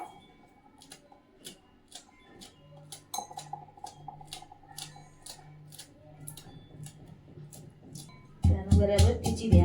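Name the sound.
pounding chili to a paste for cooking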